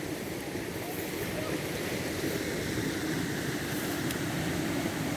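The River Moy in Ireland runs high on a dry, windy evening, a steady broadband rush of flowing water with wind noise, constant and fairly faint throughout with no distinct events.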